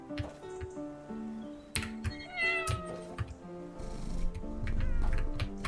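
A cat meows several times in a cozy indoor setting, the calls clear and fairly close, with soft background music running underneath.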